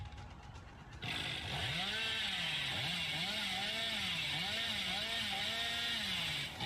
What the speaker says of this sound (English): rev your chainsaw, feather it close to 99